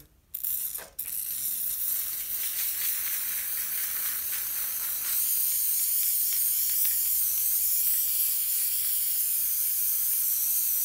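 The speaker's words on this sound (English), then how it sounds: "We're going to spray some glue" A steady, bright hiss of spray glue from an aerosol can, starting after a couple of short bursts and continuing without a break.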